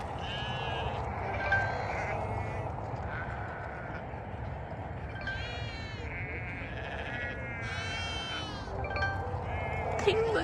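Several goats bleat at sunset on a walking trail, repeated wavering cries scattered across the clip over a steady outdoor hum, with occasional footsteps and a voice faintly present.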